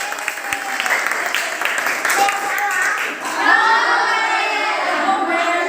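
Teachers in a workshop applaud, a dense patter of clapping that fades, then swells again into brighter, fuller applause with voices mixed in.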